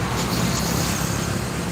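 Fast cars rush along a narrow, crowded road in Atimonan, Quezon, giving a dense, loud roar of close traffic without a break.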